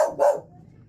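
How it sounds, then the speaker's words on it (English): A dog indoors lets out two quick, sharp barks close by, loud and abrupt, then falls quiet. "Sorry about my dog here"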